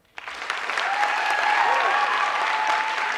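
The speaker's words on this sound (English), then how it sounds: "The applause is taking part of the 30 minutes, so it's wasting time" Audience applause at a school board meeting in Oradell, breaking out abruptly after a short quiet start and swelling into steady, sustained clapping from a room full of people, with a faint tone sounding underneath.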